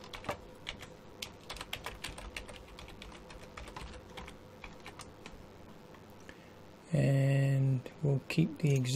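A computer keyboard is typed on at close range while a password is entered, a run of quick, light clicks in an irregular rhythm, followed by a short burst of speech at the end.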